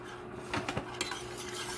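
A spoon adds two spoonfuls of whole wheat flour to a pot, giving a few soft metallic clinks and scrapes against the pot over a low, steady background hum.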